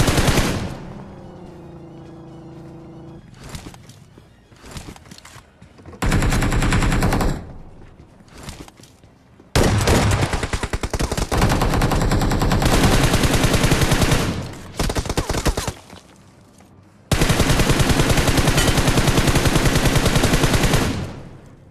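M4 rifle fire in BGMI rattles in long, loud automatic bursts separated by short pauses, with a brief quieter stretch near the start.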